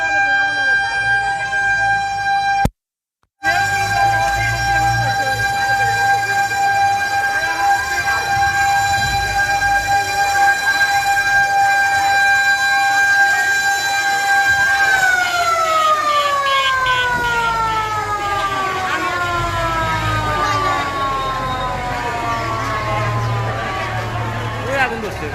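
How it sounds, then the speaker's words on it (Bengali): Fire service vehicles arrive at a hospital fire in an ICU unit with their sirens sounding loud and steady. Partway through, the wail bends downward into a falling tone, and voices can be heard talking beneath the sirens. "আপনারা দেখছেন যে ফায়ার সার্ভিসের গাড়ি সমূহ এসে পড়েছে।"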